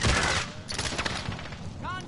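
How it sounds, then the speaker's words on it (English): Rapid bursts of gunfire crackle through a battle-royale firefight as gas closes in, shots clustering in dense volleys near and far across the whole stretch, with a brief whistling tone near the end. "Contact. Under fire."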